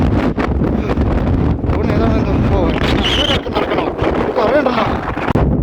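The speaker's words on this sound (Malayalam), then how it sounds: "നല്ല രീതിക്ക് കാറ്റ് വീശി വീശി അടിക്കുന്നുണ്ട്" Strong wind in a Tibetan desert roars and buffets the microphone in a constant low rumble, while a person's voice talks underneath.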